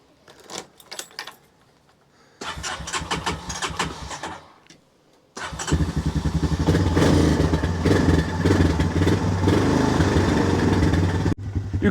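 A mobility scooter is driven while moving things for a barn build. Its motor buzzes and rattles close by, first in short bursts, then in a loud, sustained mechanical drone.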